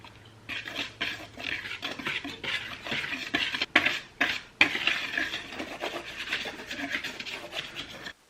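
Dry spices and flour for gingerbread cookies whisked together in a bowl, a steady close scraping and rasping of the whisk with brief pauses, no talking.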